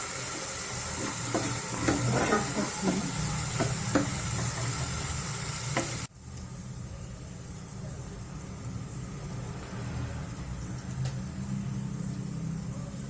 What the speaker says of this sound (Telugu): అల్లం వెల్లుల్లి పేస్ట్ వేగాలి ఇందులో బాగా.